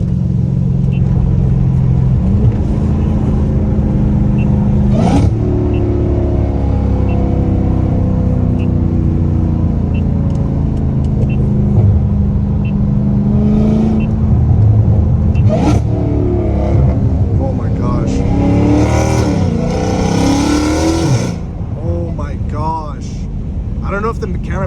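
A catless Dodge Hellcat Redeye exhaust drones loudly and steadily at night, with swells as it revs and picks up speed through gear changes, a voice talking over the rumble.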